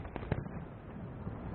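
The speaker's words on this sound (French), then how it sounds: "Une fusée s'élevait dans les airs, explosait dans une myriade de couleurs" A fireworks rocket bursting high in the sky at a festive display, giving a few soft, distant pops over a steady muffled rumble with no talk.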